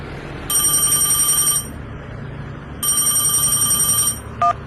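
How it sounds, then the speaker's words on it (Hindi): A phone rings with an incoming call in two long bursts of a bright electronic ringtone, close and loud, followed by a short beep. "तभी तुरंत धर्मू को घर से कॉल आ जाता है।"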